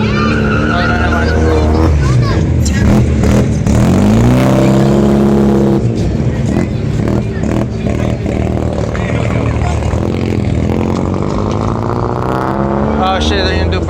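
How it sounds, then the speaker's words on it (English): Cars at a large San Antonio car meet doing burnouts, with loud revving engines and screeching tires that rise and fall, close by, while spectators shout and talk over the roar throughout. "Oh shit, they're gonna do burnouts right here."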